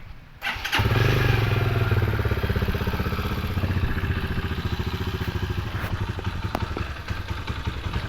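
A Rusi Classic 250 motorcycle engine starts up and settles into a steady, rumbling idle close by, its loud chugging continuing throughout.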